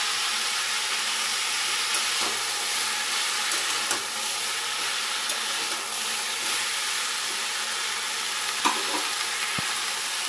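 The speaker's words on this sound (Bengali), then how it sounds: "একসঙ্গে বাঁধাকপিগুলো ভাজা হয়ে যাবে।" Shredded cabbage fries in a hot pan with a steady, dense sizzle throughout, broken by a few faint scrapes of stirring, close and continuous with no talking.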